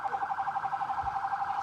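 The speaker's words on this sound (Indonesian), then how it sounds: "Sirine mobil damkar yang meraung keras saat menuju lokasi kebakaran ini" A fire truck siren rushes toward a fire in Indonesia, caught in carnival traffic: a rapid, steady warbling tone that pulses evenly at moderate distance and sounds alone.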